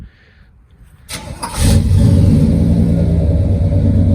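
Quiet at first, then a pickup truck engine cranks, fires and settles into a loud, deep exhaust rumble through 4-inch, 12-inch-long exhaust tips, steady and close.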